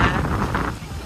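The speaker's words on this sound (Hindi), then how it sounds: "और यहाँ पे बहुत तेज हवा चल रही है" Strong wind gusting outdoors near an airport bus stop, a steady broadband rush buffeting the microphone with rumbling low-end surges throughout.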